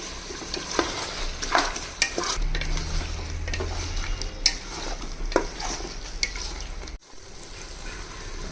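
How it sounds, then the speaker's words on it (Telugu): Chicken pieces being stirred through a spicy masala in a hot pan for chicken pulao, with close scraping strokes of a spoon over a steady sizzle and no talking. "ఇది మొత్తం ఒక్కసారి కలిపేసుకుని ఒక్క ఫైవ్ మినిట్స్ ఈ మసాలాలో ముక్కలన్నీ ఉడకపెట్టుకోవాలి"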